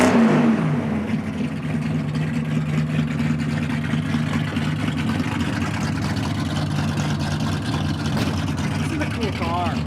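A 1963½ Ford Galaxie 500 fastback with dual exhaust idles and rumbles steadily with a deep, throbby tone, present throughout beneath people talking nearby.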